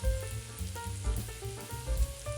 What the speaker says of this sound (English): Both the yellow straightneck squash and the green zucchini can go into the pan at the same time.